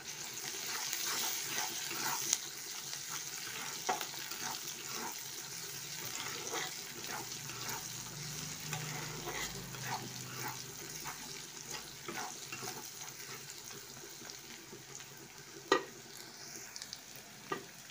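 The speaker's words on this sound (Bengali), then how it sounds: "পেঁয়াজ আর রসুন ভালো করে ভেজে নিয়েছি।" Garlic pieces and a crushed piece of ginger sizzle steadily in hot oil in a pan, with occasional sharp pops and the scrape of stirring. The frying continues alone, with no talk.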